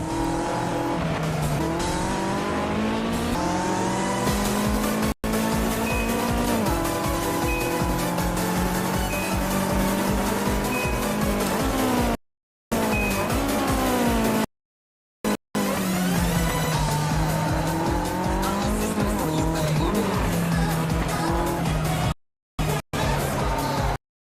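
Video game race cars, including a tuned RX-7, roar through a run with revving engines and repeated tire squeals, loud and continuous with several brief dropouts to silence, no voices heard.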